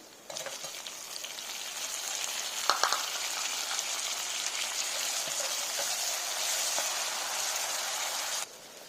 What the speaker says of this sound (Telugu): ఇందులో కట్ చేసి పెట్టిన టమాటో ముక్కలు కూడా వేయాలి.